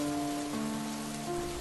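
Cartoon rain falls as a steady, even hiss throughout, with sustained tonal music tones layered over the downpour and no voices.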